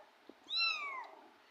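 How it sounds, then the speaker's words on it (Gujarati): A cat, likely a young kitten, gives a single clear meow, close and fairly quiet, with a faint tap just before and soft background hiss. "મ્યાઉ મ્યાઉ કરે."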